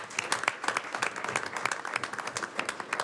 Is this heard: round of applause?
yes